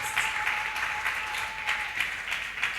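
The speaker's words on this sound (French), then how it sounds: "Que ces applaudissements aillent à la taille des acclamations pour la bonté de notre Seigneur Jésus" An audience at a church seminar service claps steadily, a dense and even wash of applause sustained throughout, moderately loud with no speech over it.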